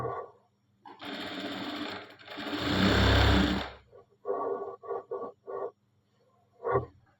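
Close sewing machine stitching fabric in several runs: two long steady whirring stretches, then a few short bursts and a final brief one, with quiet gaps between.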